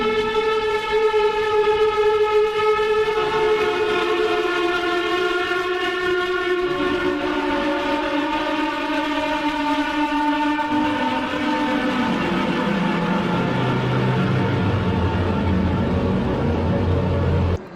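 The Caretaker's 'Hell Sirens' noise piece plays as layered wailing siren tones that steadily bend and shift in pitch. It rises into a harsher, grinding low rumble toward the end, continuous and loud throughout with no voices.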